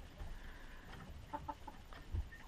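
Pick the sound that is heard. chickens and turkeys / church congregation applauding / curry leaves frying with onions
chickens and turkeys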